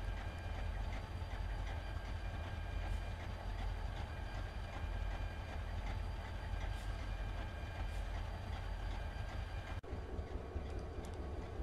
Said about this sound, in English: Here is a westbound heading to Svelterville's oil plant. It is led by an MT&I locomotive.